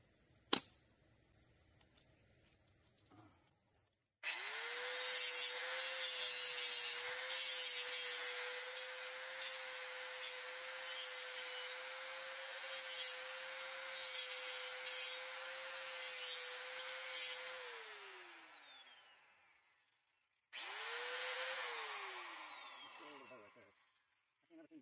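Power tool grinding burrs off freshly cut trailer frame metal, a loud steady whine running for about fourteen seconds and winding down, then a second shorter burst after a brief pause; faint talk appears only before it starts.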